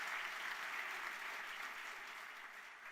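A church congregation applauds, a faint, even wash of many hands clapping that holds steady for a few seconds without talk.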